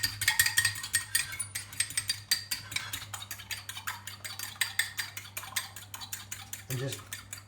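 A utensil beats an egg into choux pastry dough in a bowl, producing rapid clinking and scraping strokes in a brisk steady rhythm, close up, with a faint low hum beneath.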